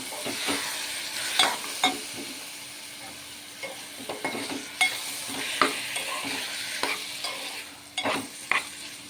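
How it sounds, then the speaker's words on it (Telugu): Tomatoes stirred into a pan of frying dried fish curry, with a steady low sizzle and repeated scraping spoon strokes at irregular intervals, close and moderately loud, no talking. "ఈ స్టేజ్లో టమాటా వేసి బాగా కలుపుకుందాం ఈ విధంగా"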